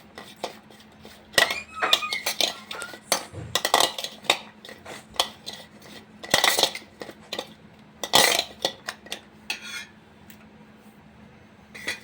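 Eggs are mixed with salt and turmeric in a bowl for an omelette, producing intermittent clinks and scraping strokes of a utensil against the bowl, close and moderately loud, with no voices.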